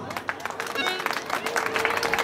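A small audience claps in scattered, uneven bursts at a dance event, with a voice talking faintly beneath the applause.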